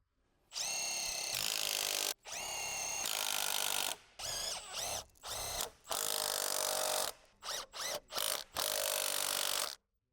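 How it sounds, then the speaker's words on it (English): An impact wrench with a 15mm deep socket on a long extension tightening engine mount nuts on a Ford Explorer, loud close bursts of rattling hammering, first long runs and then a string of short repeated blips. "Use a 15mm deep socket with a long extension and the impact to secure the mounting nuts."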